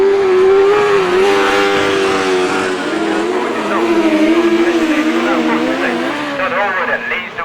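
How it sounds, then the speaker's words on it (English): Autograss race car at a St Neots dirt track revs hard on the far side, a loud sustained engine whine that climbs and wavers in pitch, with a commentator talking over it throughout. "One car revving like anything as to go down that far side."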